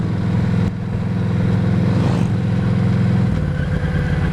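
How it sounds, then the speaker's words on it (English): Several motorcycles running steadily on a mountain highway, a continuous close engine drone with a slight shift in pitch partway through and no talking. "Lots of bikes up here today."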